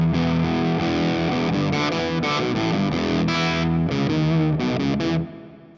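Fuzzy, saturated electric guitar through an Octafuzz preset on a cheap amp modeler, played as one continuous run of thick, buzzy chords and notes that ends in a quick fade, with no talking.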